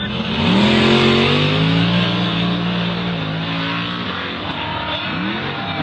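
Race car engines at the start of a race where a crash happens, loud and close, revving with pitch climbing and falling as cars accelerate and pass, then another sharp rising rev near the end.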